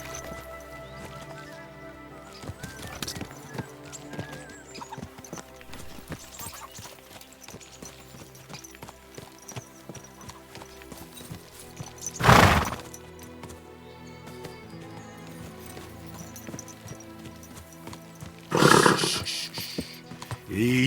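Horse hooves clop steadily through a Kingdom Come: Deliverance II game scene, joined by two loud, sharp bursts that may be the horse's neighs, heard alone over a continuous background bed.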